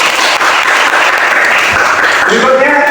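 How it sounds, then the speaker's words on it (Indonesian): Classroom applause for the first discussion group in a lesson, a short, loud burst of dense clapping with a voice rising at the end. "tepuk tangan untuk kelompok satu."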